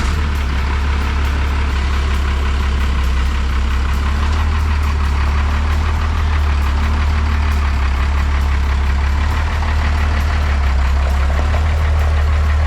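A Chevrolet C20 truck, frame-swapped and converted from dually to single rear wheels, idles with a steady, loud, low engine rumble that holds constant and close, with no voices.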